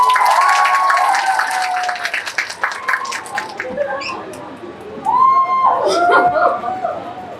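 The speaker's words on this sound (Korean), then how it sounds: "큰 박수로 맞이해주세요." A large audience in a cinema hall applauds to welcome guests at a Korean movie talk event, with steady crowd clapping and cheering throughout, a few voices and an announcer's speech rising over the applause.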